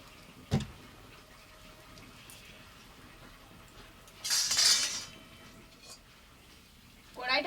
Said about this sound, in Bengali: খিচুড়িটা সিদ্ধ হয়ে গেছে, ঢাকা দিয়ে নামিয়ে নেব।